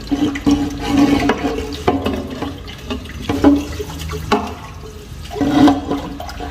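Water rushes and gurgles as an aquarium is rinsed and drained, the flow loud and close, swelling and easing in waves over several seconds with no talking.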